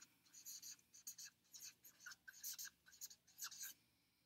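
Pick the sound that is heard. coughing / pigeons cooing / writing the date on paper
writing the date on paper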